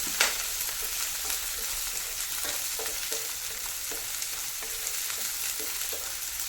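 Ginger, garlic and green chillies frying in a pan in a Kerala kitchen, giving a steady, even sizzle throughout with light, repeated stirring taps and one sharp clink at the start.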